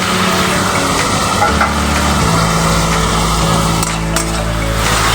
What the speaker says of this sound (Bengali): দিয়ে খুব ভালো করে আমি মশলাটাকে কষিয়ে নেব